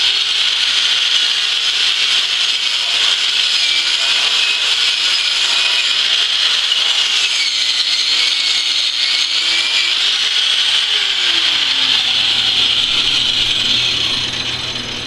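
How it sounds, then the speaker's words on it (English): A spinning wire wheel brush grinds steadily against a flux-core weld bead, a continuous loud hissing whir with a faint wavering motor tone underneath, running unbroken for the whole stretch. "I like to get a wire wheel brush on there also,"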